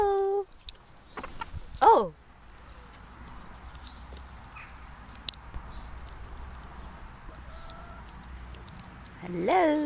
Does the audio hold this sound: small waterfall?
no